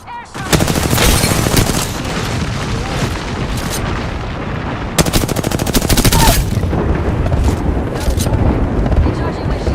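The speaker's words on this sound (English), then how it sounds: "They're shooting at me." Dense, rapid video game gunfire crackles almost continuously through a sci-fi shooter firefight, with bursts of automatic fire, sharp single shots and booming impacts, loud and close.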